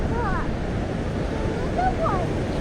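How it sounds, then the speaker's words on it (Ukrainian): Sea waves rolling onto a beach in Vietnam as the water creeps closer make a steady, moderately loud wash, with brief faint voice-like chirps passing over it. "дивися, як море до нас підбирається"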